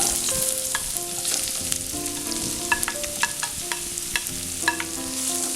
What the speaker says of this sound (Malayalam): ഈ സവാള നന്നായിട്ടൊന്ന് മൂത്ത് വരണം